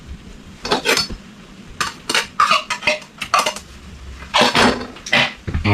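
A utensil stirs already-cooked bamboo shoots in a pan for a Thai dish, giving irregular close clinks and scrapes against the metal, with no talking.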